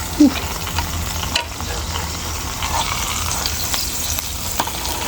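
Beef steak frying in a hot pan, a steady sizzle with occasional stirring scrapes and clinks, close and fairly loud throughout, no talking.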